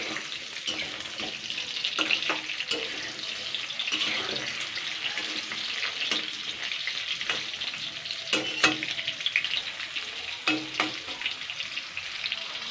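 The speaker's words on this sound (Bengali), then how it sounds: "পটলগুলো এরকম 3 মিনিট মতন, 3-4 মিনিট ভালো করে ফ্রাই করে নেব।" Pointed gourd (potol) pieces fry in hot oil, producing a steady close sizzle with intermittent scraping and stirring clatter across the whole stretch, and no talk.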